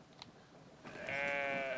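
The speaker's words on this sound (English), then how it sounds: "Poor sheep. Oh, look at him." A sheep in the video game Brothers: A Tale of Two Sons gives one drawn-out bleat after a short faint sound, fairly quiet, with no talking.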